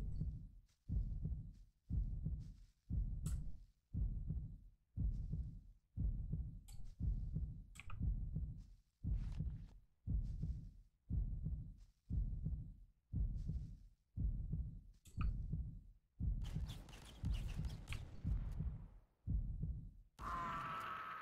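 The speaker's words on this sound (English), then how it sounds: "That fucking heartbeat, man, is so annoying." Looping heartbeat effect from a GameGuru video game: a steady, heavy thump-thump pulse repeating about once a second for over twenty seconds, with faint game clicks and noises joining near the end.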